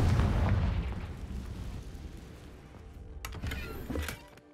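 A Confringo explosive spell goes off in Hogwarts Legacy on PS5: a loud, booming blast that swells and slowly fades, followed by a few sharper pops and crackles near the end.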